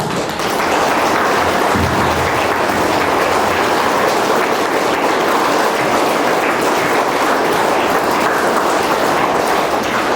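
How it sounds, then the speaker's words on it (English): Sustained round of applause from a school audience at a 2024 English fest, dense and steady clapping for about ten seconds with no talk over it. "So please give a round of applause for them."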